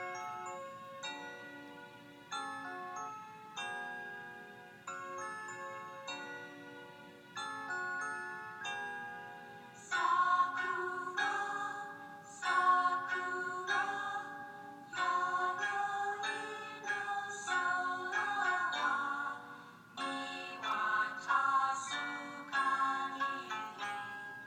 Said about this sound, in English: It is a folk song from Japan about cherry blossom trees in springtime.